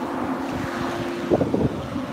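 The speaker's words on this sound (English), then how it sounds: "But that wind is picking up a little bit." Steady wind blowing across the microphone on a farm during snow melt, a continuous low rush with a few gusty swells near the end, no voices.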